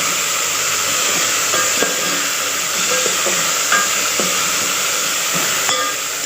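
Tempering seeds and onion fry in a pan for mango pickle, a steady loud sizzle with occasional small pops and crackles close by.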